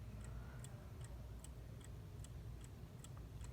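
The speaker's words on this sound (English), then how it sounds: "This is my Howard Miller bracket mantle clock" Howard Miller bracket mantel clock ticking in a steady even rhythm, quiet and close over a low room hum, with no voices.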